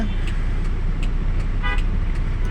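A jammed city road carries a dense, steady rumble of traffic close by, with short car-horn toots breaking through several times.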